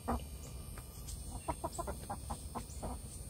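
Chickens clucking nearby in short, irregular bursts, soft and close, over a quiet outdoor background.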